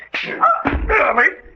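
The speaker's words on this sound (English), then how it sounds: "That wolf's gone mad." A wolf whimpers: high, wavering whines and yelps rising and falling in a couple of close, fairly loud bursts.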